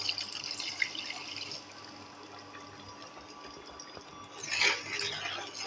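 Tamarind water is strained and poured into a curry with a soft, steady trickle and light dripping close by, swelling into a brief louder splash near the end. No talking is heard.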